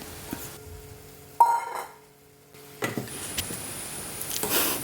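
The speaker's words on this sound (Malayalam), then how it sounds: "നന്നായിട്ട് ഇളക്കാം." Soya chunks being stirred into a masala curry in a pan, with scraping and stirring sounds, a sharp knock, and a brief quiet gap before the stirring and a soft sizzle pick up again.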